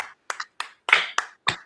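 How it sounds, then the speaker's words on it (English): A single person clapping hands, six sharp separate claps at an uneven pace, close and dry with silence between them. "I am standing and applauding, bro."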